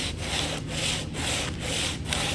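Sandpaper sands a wooden cribbage board along the grain in steady back-and-forth strokes, about five rhythmic rasping passes, close and clear with no talking.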